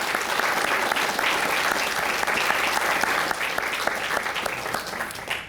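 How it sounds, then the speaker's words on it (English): A crowd at an award ceremony applauds the host staff in a warm, continuous round of clapping, dense and even, tapering off slightly in the last second. "we should give them a round of applause as well."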